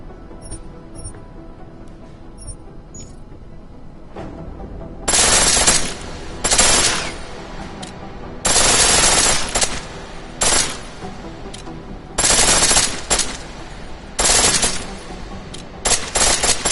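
Automatic pistol fire in Deus Ex: Mankind Divided, loud rapid full-auto bursts repeated in several separate volleys with short gaps between them.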